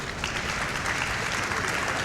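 Steady audience applause fills the hall at a Mega Man X speedrun charity event, a continuous dense clapping wash that holds even and fairly loud throughout with no talk over it.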